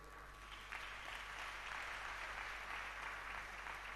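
A church congregation applauding, a steady wash of moderate clapping from many hands, lasting the whole few seconds without speech.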